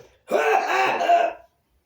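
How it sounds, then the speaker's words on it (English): A single rough cough or throat clearing in a library, close and fairly loud, lasting about a second, with no talking around it. "stop that coughing"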